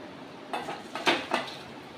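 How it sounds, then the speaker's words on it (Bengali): A metal pan of rohu fish curry is lifted off the stove, giving a few quiet clanks and scrapes of cookware, three or four short metallic knocks in quick succession over faint kitchen background. "এবার আমি ঝোলটা নামিয়ে নেব।"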